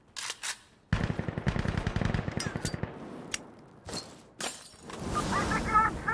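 Gunfire in the FiveM video game: a rapid automatic burst, then scattered single shots and short bursts with gaps between, loud and close, ending in a denser rattle of fire.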